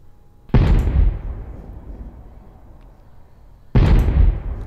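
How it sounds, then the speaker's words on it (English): Two loud booming shots from 155mm artillery in the ARMA 3 video game, each a sharp blast with a rumbling tail, spaced about three seconds apart. "here's the Gal 12, which is the 155mm artillery"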